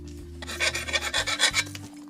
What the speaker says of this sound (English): Now we got a file, and we're just filing away the rougher spots on here, still prepping it for paint.